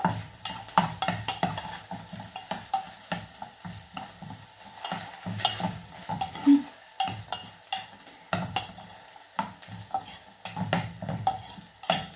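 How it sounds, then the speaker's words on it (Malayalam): Onion and ginger sauté in a pan with a soft sizzle, punctuated by frequent rhythmic scrapes and clinks of a spoon against the pan, close by and without talk. "നമ്മുടെ സവാളയും ഇഞ്ചിയൊക്കെ അങ്ങനെ വഴന്ന് വരട്ടെ"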